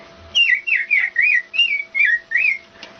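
A woman whistles an imitation of an American robin: seven quick, warbling up-and-down phrases in a steady bouncing rhythm, close and clear with no other sound.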